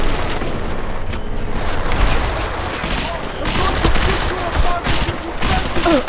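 Gunfire and explosive booms roll through a firefight in the game Deus Ex: Mankind Divided, dense and continuous over a noisy battle backdrop, with voices shouting under the shots.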